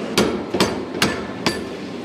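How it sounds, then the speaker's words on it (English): Four heavy, evenly spaced blows from a big power hammer forging a wrought iron bar, each strike loud and close with a sharp metallic impact and short ring, no talking. "We're gonna do that under the big hammer because it's just a delight."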